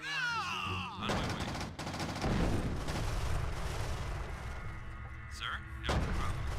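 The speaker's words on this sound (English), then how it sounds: "I'm taking heavy fire." Heavy gunfire rattles through a war game from EA, dense bursts of shots and rumbling blasts that go on almost without a break, loud and near, while a voice speaks briefly over the shooting.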